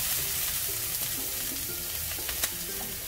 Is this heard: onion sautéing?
yes